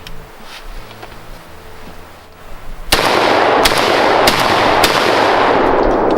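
A CZ 712 semi-auto shotgun loaded with Remington high-speed steel shells, 1 1/8 ounce at 1,550 feet per second, fires a rapid string of loud, sharp blasts outdoors at SHOT Show 2017 after a quiet start, and each report rings briefly.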